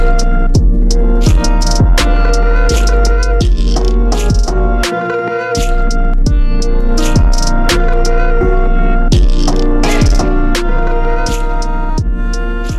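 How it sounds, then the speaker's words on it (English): Music run through the HY-LOFI lo-fi bit-crush distortion plugin, loud and continuous with a steady beat, punchy transients and a gritty, hissy edge, and no speech. "you can actually hear the wee bit of bit crush that's in there."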